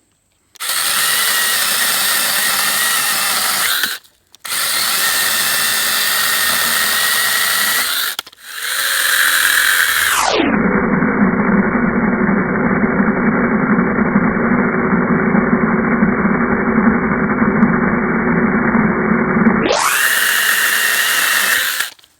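A Sainlogic mini chainsaw revs in loud, steady bursts, then its motor pitch drops and holds as it bites through wood for about ten seconds before spinning back up, with no voices.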